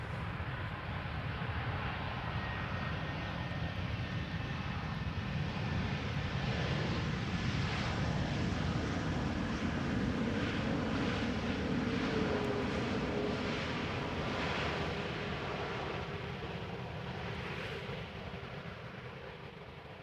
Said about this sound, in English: Max 8 arriving from Reykjavik, flight 506.